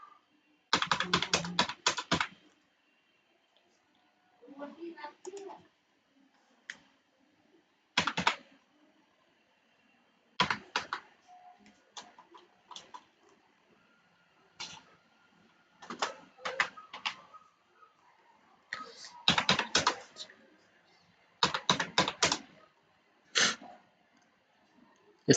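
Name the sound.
typing a roll number on a computer keyboard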